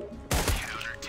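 Video game gunfire erupts as a loud, sustained burst of rapid shots after a brief quiet moment, with a heavy thump at its onset.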